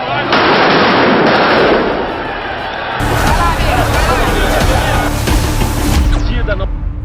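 A firework rocket bursts near the Corinthians team bus arriving at the Mineirão stadium, sharp loud cracks and bangs amid a noisy crowd, with shouting voices throughout.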